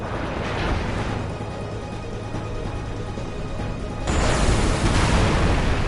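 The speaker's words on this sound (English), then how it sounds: "Massive explosion." A massive explosion in the 2001 video game Final Fantasy X, collapsing a building: a loud, sustained roaring blast that surges even stronger partway through and rumbles on to the end.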